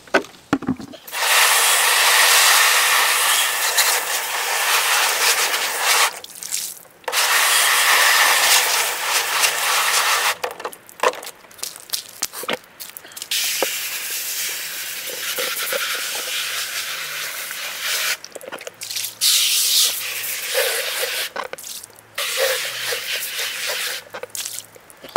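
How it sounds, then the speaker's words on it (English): LECA clay pebbles rinsed in a pot with water outdoors on a driveway: a loud, broad rushing hiss of pouring water and rattling pebbles, coming in long bursts separated by brief pauses. "I'm gonna fill it with LECA and wash it out."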